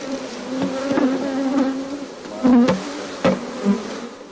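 Honey bees buzz steadily around a beehive frame as it is lifted from the hive box during royal jelly production, a close, continuous hum broken by a few sharper knocks.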